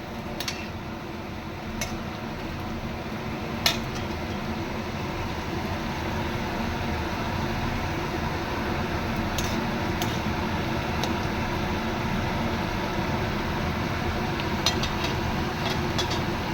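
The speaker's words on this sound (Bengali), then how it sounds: "আর এইদিকে সব ভাজা চলছে।" Thick-cut French fries deep-frying in oil, a steady, dense crackling hiss that stays even throughout, with a few sharp clicks of utensils against the pan.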